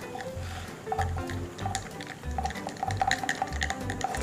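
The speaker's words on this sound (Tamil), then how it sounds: "எல்லா ஃப்ரேக்ரன்ஸும் ஆட் பண்ணதுக்கப்புறம் இப்படி ஒரு மிக்ஸ் கொடுங்க" A small 10 ml blend of liquid perfume fragrance oils is stirred, giving soft wet swishes and clinks in an irregular rhythm, close and moderately quiet.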